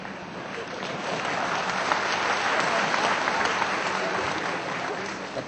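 Audience applause at a press gathering with Gujarat's Chief Minister, a dense and steady wash of clapping that lasts the whole stretch at an even, loud level, with a few voices mixed in.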